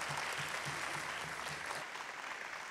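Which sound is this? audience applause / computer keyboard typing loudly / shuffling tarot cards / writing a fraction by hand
audience applause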